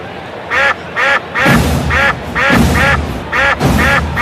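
Duck quacking sound effect played over the stadium speakers at a spring training baseball game, a loud, repeated series of nasal quacks in a steady rhythm, with faint crowd ambience underneath.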